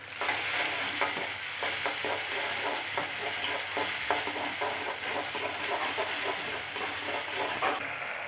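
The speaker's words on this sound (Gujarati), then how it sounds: "અને હાઈ ફ્લેમ ઉપર આપણે મિક્સ કરીશું" Crispy chana chilli, kabuli chickpeas, is stir-fried in a cornflour and water slurry on high flame, giving a continuous close sizzle with steady rhythmic scraping and tossing strokes throughout, with no talking.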